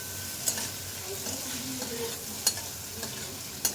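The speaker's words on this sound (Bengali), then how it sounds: "একদম হালকা ভাজবো চিংড়ি মাছ।" A soft steady sizzle of salted, turmeric-coated shrimp frying lightly in mustard oil in a wok, with a few sharp spatula clicks against the pan and no voices.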